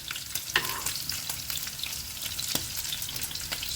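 Bacon frying in olive oil in a pan, a steady close sizzle and crackle with a few sharper pops and faint stirring, no voices.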